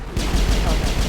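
Rapid gunfire crackles in the sci-fi video game Mass Effect, a fast string of close, loud shots in a steady automatic rhythm with no voices.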